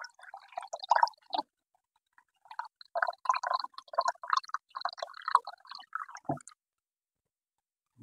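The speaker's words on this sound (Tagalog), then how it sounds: "lagay natin ng tubig. Kunting tubig." Water is poured in small splashes into a pot of chicken cooked with tomato paste and potatoes, with intermittent wet, bubbling dribbles broken by short quiet pauses and no voices.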